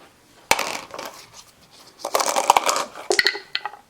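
Dice clatter onto a tabletop during a war game, in several quick rattling bursts of small rolling plastic cubes with short pauses between throws.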